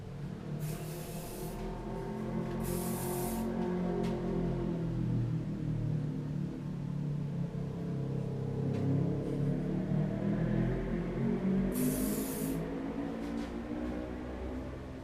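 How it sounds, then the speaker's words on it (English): Hairspray from an aerosol can, three short hissing bursts spaced apart over a low, steady background rumble, with no talking. "Stronger hairspray."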